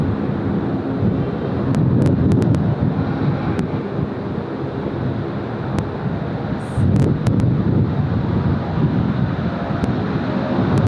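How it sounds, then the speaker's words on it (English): Gusty wind buffets an outdoor microphone at Sydney Airport near the runways, a steady broadband rumble swelling in gusts around two and seven seconds, with no voices. "See what that breeze is really starting to kick in."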